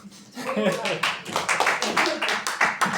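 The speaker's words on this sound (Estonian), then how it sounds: "Meil Karinit ei ole keegi plaksuta." A church congregation claps in a quick, steady rhythm during a worship service. The clapping is close and lively, with voices mixed in underneath.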